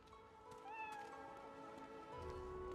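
A cat meows in Divinity: Original Sin 2, a fantasy role-playing game, a faint drawn-out call rising and falling over a steady low ambient hum, with no talking.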